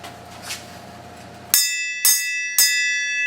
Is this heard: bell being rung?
yes